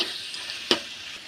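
Masala frying in a pan sizzles steadily up close, broken by one quick scrape of a spoon stirring it.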